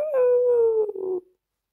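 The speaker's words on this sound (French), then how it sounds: "Kéro, son chien, acquiesça par un petit son de chien qui ressemble à un chant de compassion." A dog gives a short, soft, mournful howl that slides gently downward in pitch, then ends in a brief wavering whimper, close and alone without talk.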